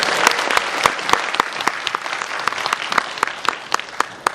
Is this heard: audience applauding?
yes